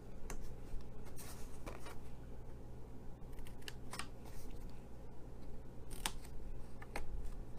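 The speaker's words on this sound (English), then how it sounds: "Now we're going to cut out these corners." Scissors snip through a folded paper gift box, cutting its corners in short, crisp bursts with brief pauses between cuts, close by and alone.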